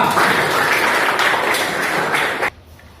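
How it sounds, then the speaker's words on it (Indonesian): Classroom applause from students, a dense burst of clapping that fills the room steadily before cutting off abruptly near the end, leaving quiet room tone. "tepuk tangan untuk kita semua."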